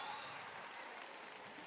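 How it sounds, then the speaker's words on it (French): A live audience applauds Miss Alsace, Cécile Wolfram, as she comes on stage at a Topmusic Live show, with steady, even clapping at a distance and fairly faint throughout. "Un amour de Miss Cécile Wolfram, sous vos applaudissements, s'il vous plaît."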